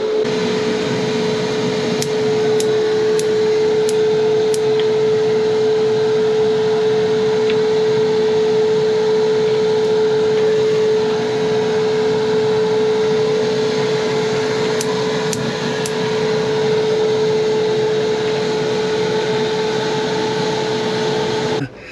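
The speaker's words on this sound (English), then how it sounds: "I apologize for the air conditioning noise." A boat's air conditioning unit drones steadily throughout, a constant close mechanical hum with a strong tonal whine, while faint clicks and taps from propane fittings sit occasionally on top.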